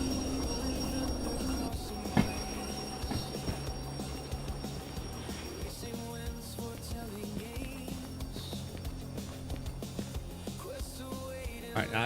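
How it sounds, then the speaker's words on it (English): A train from a railway video game slows to a stop in a shunting yard, with steady rolling rumble, wheel clatter and faint metallic squeal running continuously throughout. "now I just have to wait for the train to stop"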